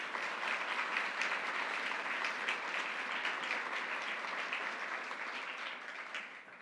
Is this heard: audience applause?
yes